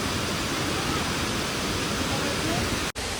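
Bhelughat waterfall in Karbi Anglong, Assam, roars as a dense, steady rush of falling water, loud and continuous with no other sounds standing out.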